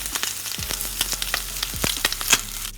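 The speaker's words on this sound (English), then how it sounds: "Let's appreciate the sizzle." Bacon sizzles and crackles on a hot griddle, a steady frying hiss with scattered sharp pops close by.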